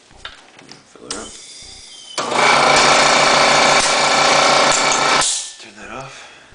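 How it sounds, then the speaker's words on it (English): An air compressor runs at about 80 psi to fill an air cannon, a steady loud mechanical churn lasting about three seconds and then cutting off, with quieter clatter before and after. "Running at about 80 psi on the compressor."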